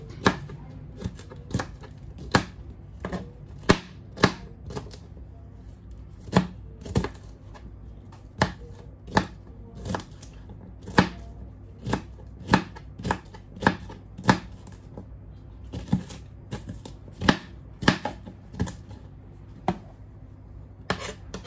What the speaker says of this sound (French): je vais couper aussi le poivron rouge.